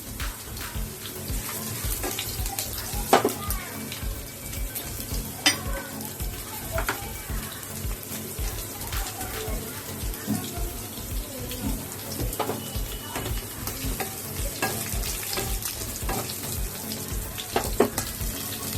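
Chillies fry in a pan for egg chilli with a continuous close sizzle, while a utensil stirs them in scattered clicks and scrapes throughout.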